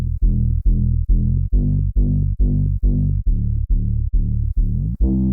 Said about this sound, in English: I've created pitch bend automations on the G kick and the